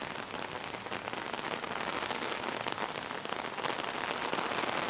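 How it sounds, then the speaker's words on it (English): Heavy rain pours down in Paris, a dense, unbroken roar of drops hitting hard surfaces close by, steady and loud throughout with no voices. "Heavy, heavy rain."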